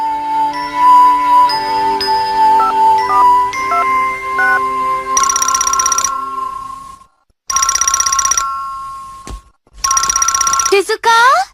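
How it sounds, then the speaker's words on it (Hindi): A telephone rings loudly in a Doraemon cartoon, in repeated electronic bursts separated by brief silences, after a tinkling melodic tone at the start. "घर पहुंचकर मैं फोन करके माफी मांग लूंगा।"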